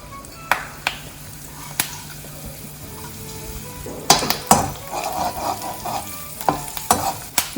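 Spices sizzle and crackle as they drop into a small amount of heated oil in a pan for tempering. The frying is close and steady, punctuated by sharp clinks of a spoon stirring against the pan.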